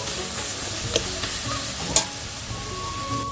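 A spoon scrapes and stirs tangy taro flower curry with tamarind in a kadai, against a soft steady sizzle, with a few sharper knocks of the utensil against the pan and no talking.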